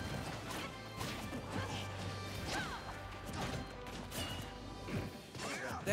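A forward smash lands in a Super Smash Bros. 4 doubles match, a loud crashing impact among rapid game hits, whooshes and thuds under constant crowd and commentary noise.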